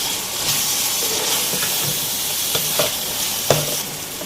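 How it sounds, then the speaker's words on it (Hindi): Minced meat keema fries with tomatoes in a pan, giving a steady close sizzle and hiss with occasional scraping stirs and small crackles throughout. "अब हमें टमाटरों के साथ भी कीमे को बहुत अच्छी से भूनना है"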